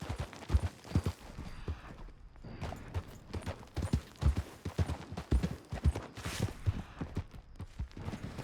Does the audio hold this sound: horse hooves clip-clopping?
yes